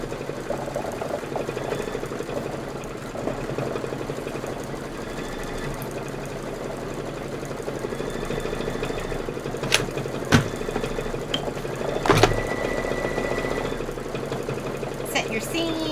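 A sewing machine hums steadily while stitching a Kimberbell Cup of Cheer sew-along project, a continuous mid-pitched mechanical drone with a few sharp clicks near the end, close and constant.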